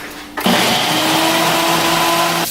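Ninja blender mixing ingredients: the motor kicks on abruptly, then runs as a loud steady whir for about two seconds before cutting off, close by and without any talking.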